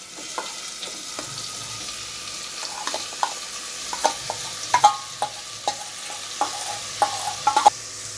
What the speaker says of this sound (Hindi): 3 से 4 मिनट तक भूनेंगे मीडियम आंच पर।